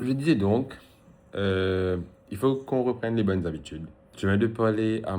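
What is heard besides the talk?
None of the usual background noises is heard.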